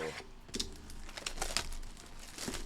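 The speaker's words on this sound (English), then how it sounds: "Let's go ahead and rip big box of Bowman Jumbo" A big box of Bowman Jumbo baseball cards is torn open by hand, with a run of close, crisp crinkling and tearing of wrapper and cardboard, loudest in a few sharp rips.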